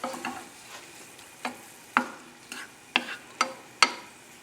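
A ricotta, cream cheese and bacon omelette with onions cooks in a pan, giving a soft steady sizzle broken by several sharp utensil clicks and scrapes at irregular intervals, close and fairly quiet with no talking.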